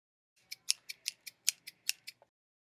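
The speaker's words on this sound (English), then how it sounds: "I would like my hair cut." Scissors snip hair at a quick, even pace, about ten crisp close metallic cuts in a row, with no talk.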